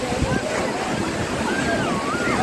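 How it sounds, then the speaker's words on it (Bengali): Big ocean waves at Marina Beach in India roll and wash in a steady, loud roar with wind buffeting the microphone and a voice speaking over the surf throughout. "মানে ঢেউগুলো মারাত্মক উঁচু হয়ে আসছে"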